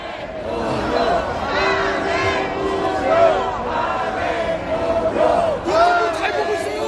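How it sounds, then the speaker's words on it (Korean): Young people massed on an open asphalt square at a political rally shout and cheer together, a dense, continuous roar of many voices with rising bursts and chant-like swells, close and loud throughout. "이 외치는 이 함성이 들리지 않습니까"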